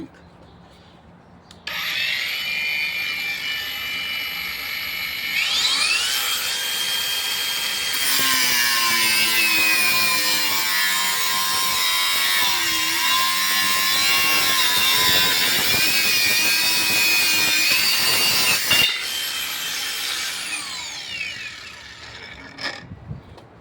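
Dnipro-M DGA-201BC cordless angle grinder cutting through a piece of material: motor spins up with a rising whine, then a loud sustained screeching cut for about ten seconds before winding down.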